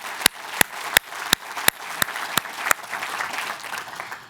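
Applause at an event announcing a new medical school, beginning with about eight loud, evenly spaced claps, then fading into softer scattered clapping from a crowd.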